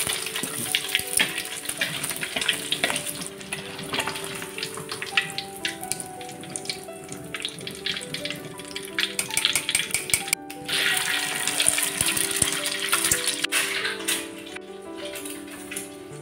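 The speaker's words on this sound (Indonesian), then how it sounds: "panaskan minyak goreng secukupnya, lalu goreng telur satu persatu" Eggs frying one at a time in hot cooking oil give a steady close crackle and sizzle with scattered pops and ticks throughout.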